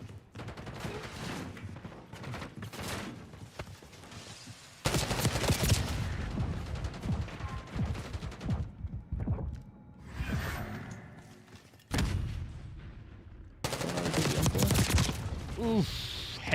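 Gunfire in the Black Ops 6 video game, with loud bursts of automatic fire in several stretches broken by brief lulls and game effects.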